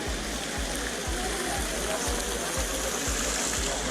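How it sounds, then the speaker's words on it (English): Rushing water from a large waterfall in Colombia, a steady dense roar filling the scene with rhythmic low thumps underneath, continuous and close. "We're about to get in that big waterfall over there."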